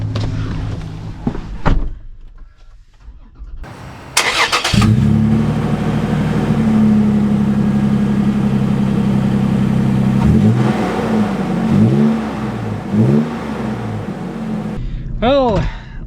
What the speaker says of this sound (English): Well, let us set off in the 4Runner first and then the Land Cruiser second.